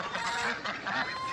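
Ducks call nearby with overlapping nasal honks and quacks, fairly loud and continuous for a moment.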